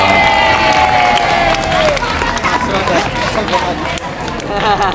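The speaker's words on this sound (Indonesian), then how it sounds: "tepuk tangan untuk Mikael" Children at a morning Quran study gathering cheer and clap together in a loud, close, dense burst, with shouting and voices layered over the clapping throughout.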